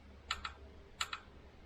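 Fuel injector on a V12 engine clicking as it is pulsed with 12 volts, two quick pairs of sharp, close mechanical ticks about half a second apart, otherwise quiet.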